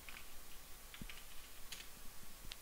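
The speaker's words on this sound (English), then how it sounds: "we will directly click Control plus F, and from here we will directly search for Iran." Fingers pressing keys on a computer keyboard, including a Control plus F shortcut, giving scattered faint clicks and taps over a quiet hiss, irregular and close.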